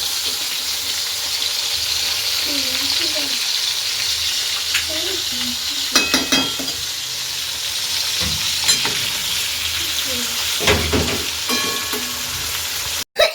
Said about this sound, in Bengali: মিষ্টি আলু ভাজা